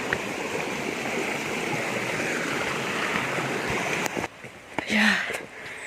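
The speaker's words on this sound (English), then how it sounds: "And our river over there." A river in Karura Forest, Kenya, rushes steadily in a broad, continuous wash, then drops away as brief rustling and a voice take over near the end.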